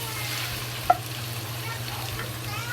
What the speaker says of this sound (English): we fry it, slowly fry it until the fat in the pork come out